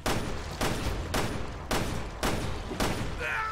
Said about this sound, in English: I'm trying to shoot the thing